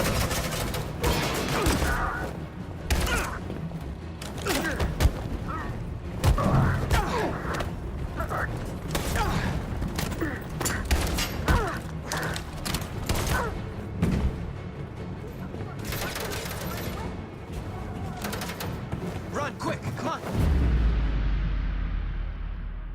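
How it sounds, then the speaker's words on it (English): Suppressing gunfire rattles through a firefight in the game Detroit: Become Human, with dense repeated shots, blasts and mechanical clatter under shouting voices, ending in a heavy boom and fading rumble. "Suppressing fire!"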